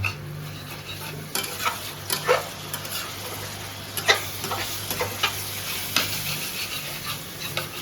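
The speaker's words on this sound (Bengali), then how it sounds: "একদম ভালো করে কষে নেবো মশলাটা, যাতে স্মেলটা পুরো বেরিয়ে যায়" Spice paste for a Bengali egg curry being fried and stirred in a pan, with scattered scraping spoon strokes over a soft continuous sizzle and a low background hum, and no voices.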